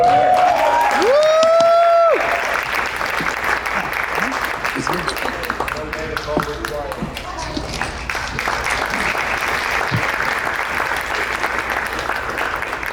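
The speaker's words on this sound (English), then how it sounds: "Everybody give David a huge round of applause" An audience breaks into loud, sustained applause with some cheering for a leadership award recipient, following a short burst of tonal sound at the start and continuing evenly to the end.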